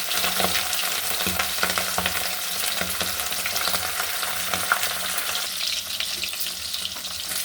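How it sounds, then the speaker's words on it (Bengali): Pieces of rohu fish and the fish head sizzle steadily in hot mustard oil close by, with soft stirring and spattering throughout. "সর্ষের তেলে রান্নাটা করব মাছটা ভাজার জন্যে।"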